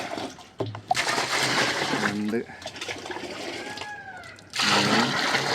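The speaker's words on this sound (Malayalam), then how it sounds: "ഇരുപത് ലിറ്റർ വെള്ളം ഇതിലൊഴിച്ചിട്ട് ഡെയിലൂട്ടാക്കി വെക്കുകയാണ് ലിറ്റർ വെള്ളം ഒഴിച്ചു കൊടുക്കാം" Water poured from a jug into a drum to dilute homemade plant fertilizer, sloshing and splashing in bursts while a man counts aloud nearby.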